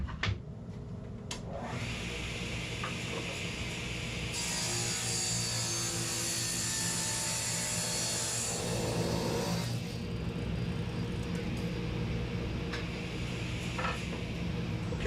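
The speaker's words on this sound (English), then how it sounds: "Now what I'm going to do is rip them to the exact width that I want." A saw rips wood pieces to width in a woodworking shop, making a continuous whining cut that swells louder midway before settling back to a steady machine hum.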